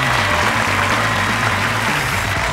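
Audience applause at an innovation awards ceremony, a steady wash of clapping that stays loud and dense throughout with no gaps.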